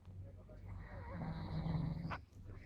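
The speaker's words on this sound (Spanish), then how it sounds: "Esta cosa ronca." Snoring close by, a deep rough rattling breath that swells and grows louder before breaking off into a short snort, with a voice mixed in.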